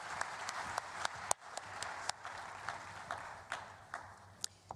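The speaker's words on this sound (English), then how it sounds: "A warm round of applause, please, as she comes up." Audience applause at a business forum opening ceremony as a panelist walks on stage, fairly quiet and sparse, with scattered distinct claps standing out over a soft crowd background.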